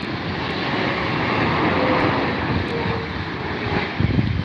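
An airliner with four Rolls-Royce Trent engines at Heathrow gives off a loud, continuous broadband jet roar that swells slightly midway, with some wind noise mixed in.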